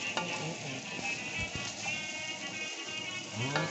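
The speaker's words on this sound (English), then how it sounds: "You see that sizzling, y'all?" Bacon sizzling in a pan for a Cajun crawfish mac and cheese, a steady close crackling hiss with occasional spatters and a few stirring clatters throughout.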